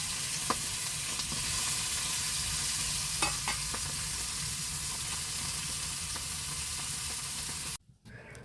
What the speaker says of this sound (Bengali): শিমগুলোকে আগে সুন্দর করে ভেজে নেব